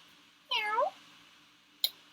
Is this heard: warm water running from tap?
no